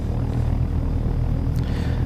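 Steady, loud rotor and engine drone from a helicopter in flight in the video game Take On Helicopters, continuous and close with no talk.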